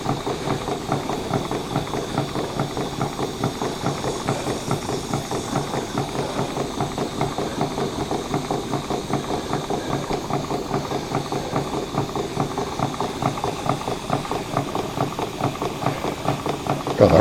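A steam plant engine runs steadily with its condenser working, giving a continuous rhythmic chugging and rattling with a faint hiss, close and even throughout, no talk.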